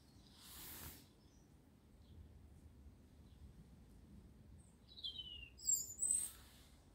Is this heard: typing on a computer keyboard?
no